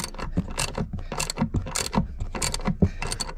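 Ratchet fitted with a 13mm socket loosening spring bolts on a 2019-era Porsche 911 Carrera S (991.2) during a lowering spring install, giving a steady run of close, loud mechanical clicks and ratcheting bursts with no talk.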